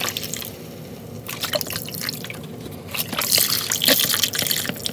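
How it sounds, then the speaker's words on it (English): Chicken broth poured into a pot of chicken and rice, a steady liquid trickle and splash that swells louder partway through, with no talking. "You add chicken broth. And not water, chicken broth."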